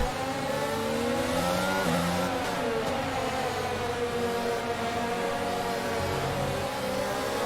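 An F1 race car in the F1 22 video game accelerates hard at a safety car restart at the United States Grand Prix, its engine whining up through the gears in rising sweeps, loud and close with no talk.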